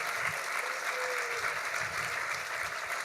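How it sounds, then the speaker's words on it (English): Soft, distant audience applause at an award luncheon in a hall, a steady patter of clapping for an honored assemblywoman, with faint voices underneath. "To Donna Lapardo, who represented the Assembly, let's give her a round of applause."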